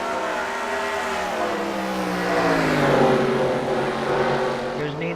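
Race car engines roar steadily in a NASCAR racing video game, a dense continuous drone of several cars with a slight swell midway, under a commentator's voice.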